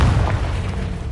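A deep, muffled boom from a fire-spell blast in Hogwarts Legacy hits at the start and decays into a low rumble, with nothing else over it.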